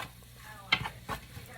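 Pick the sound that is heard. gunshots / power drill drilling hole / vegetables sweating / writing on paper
vegetables sweating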